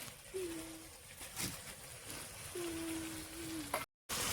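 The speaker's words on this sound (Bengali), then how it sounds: "আচ্ছা, মাংসটা সুন্দর কষা হইতেছে।" Meat browning in a pan with onion, garlic, ginger, clove, cardamom and bay leaf sizzles softly and steadily, with occasional stirring scrapes and a faint tonal hum, before a brief cut to silence.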